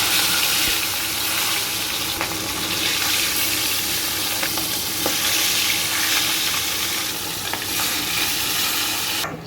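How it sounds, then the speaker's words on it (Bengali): Pieces of catla fish frying in hot oil, a steady loud sizzle running throughout with occasional stirring clinks. "এভাবেই আমি সব মাছগুলিকে একে একে ভেজে নেব।"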